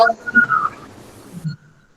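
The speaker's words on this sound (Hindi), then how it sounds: "कौन है, कौन सीटी बजा रहे हैं" A whistle blown by someone in a school classroom during a mathematics lesson, a short bright tonal burst near the start that fades away, with no talking over it.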